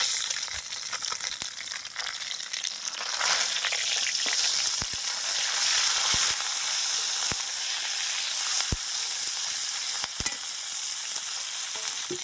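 Crumbled bele fish fries with green chillies in a pan, giving a loud, continuous sizzle with spatula taps and stirring knocks scattered through it.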